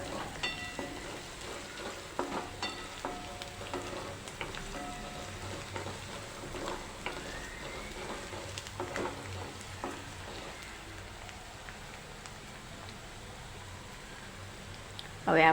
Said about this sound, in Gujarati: આદુ અને લસણની પેસ્ટ લીધેલી છે સાતોળી લઈશું તેને પણ